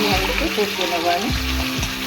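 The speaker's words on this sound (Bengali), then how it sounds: "এইভাবে একটু কষিয়ে নেবো আমি।" Chicken is sautéed in a pan for lemon chicken, with a loud, close sizzle and bursts of stirring scrapes, a few rhythmic utensil strokes cutting through the constant frying.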